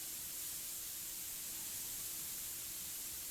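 Paint spray hissing on a car's exhaust area in Car Dealer Simulator, a constant even hiss that stays at one level and never breaks.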